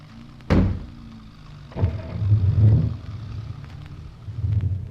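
Car doors thump shut in a radio drama, one sharp slam followed by a second, then an engine starts and rumbles as the car pulls away, rising and falling in bursts.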